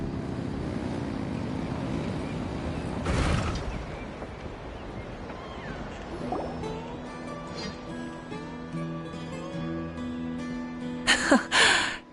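Engines rev in a Genshin Impact story quest scene: a steady low mechanical drone with a broad rushing swell near the start, then higher tones, ending in louder bursts.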